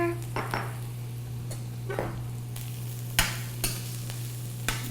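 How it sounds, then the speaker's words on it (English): Onions and garlic sizzle softly in a pan with a steady low fry, punctuated by several sharp scrapes and taps of a utensil stirring against the pan, fairly quiet and close. "Now the onions are starting to cook up, starting to get a nice translucent color"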